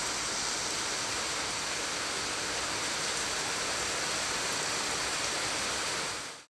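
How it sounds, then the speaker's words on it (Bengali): Heavy rain pours down in a dense, even roar of broadband noise that stays constant and fairly loud before cutting off abruptly at the end, with no voices present. "বৃষ্টিটা আরও জোরে এলো"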